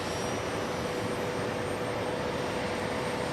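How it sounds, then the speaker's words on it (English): A CRJ regional jet taxiing at JFK airport produces a steady, even broadband roar with a faint high whine, constant in level and with no voices over it. "We have a little CRJ heading to the Alpha gates."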